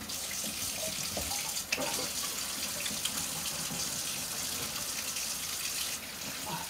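A faucet gushes into a sink while peanut-butter-coated hands are scrubbed under it, a steady close splashing stream with a few brief knocks and no voices.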